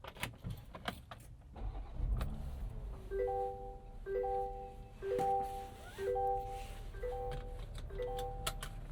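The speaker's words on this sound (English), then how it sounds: "Also, it's pretty quiet in here. Take a listen." Inside the cabin of a 2026 Ineos Grenadier with a B58 engine while driving, a low, muffled road rumble sits under a soft chime tone that repeats at a steady rhythm, with no one speaking.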